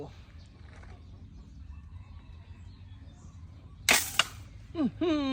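A crossbow fitted with a fiber-optic front sight, model S01 or S02, shot once: a sharp loud snap of the string and limbs after quiet room noise, followed by a brief rattle and a short voice.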